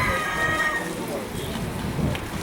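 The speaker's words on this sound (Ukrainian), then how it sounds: "І тут петушки." A rooster crows in the first second at a pigeon and poultry fair, a drawn-out call over steady background noise, with a voice murmuring and the crow fading into ambient hubbub.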